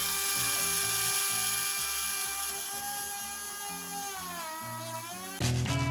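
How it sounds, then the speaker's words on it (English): A small drill whirs steadily while pre-drilling spike holes for model railroad track on a logging-railroad trestle layout, its pitch sagging and recovering under load before a brief louder burst at the end; no voices. "So I just made a habit of pre-drilling every single hole for the spikes."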